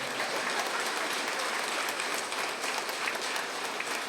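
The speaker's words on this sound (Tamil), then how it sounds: "கைத்தட்டதுக்கு ரொம்ப நன்றி." At an astrology book launch, a hall audience claps continuously, a dense, even roar of applause at moderate level with no speech over it.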